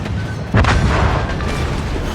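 Naval guns fire armor-piercing shells in a warship combat video game: one deep, heavy boom about half a second in, rising over a constant low rumble of game ambience, with no talking.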